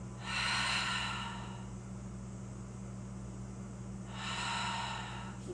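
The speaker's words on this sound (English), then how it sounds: "Breathing here." Slow, deep breaths from a person in a yoga class, one long audible exhale near the start and another near the end, close and soft over a steady low hum, with no talking.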